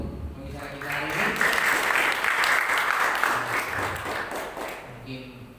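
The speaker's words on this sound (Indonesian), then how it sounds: "Sekali lagi berikan tepuk tangan untuk pembicara kita hari ini." An audience claps for the speakers at a seminar, a dense burst of applause that swells, holds for a few seconds and fades, with a voice speaking briefly at the start and end.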